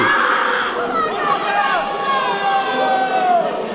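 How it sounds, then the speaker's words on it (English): A live wrestling crowd cheering on a team, loud and sustained shouting and cheering from many voices, with rising and falling calls mixed into a continuous roar. "You can hear the crowd willing on Club Rock Shandy"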